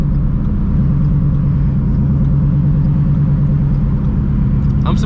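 A supercharged 800-horsepower Shelby GT350 Mustang with a new exhaust drones loudly and steadily from close by, a continuous deep engine rumble without pause.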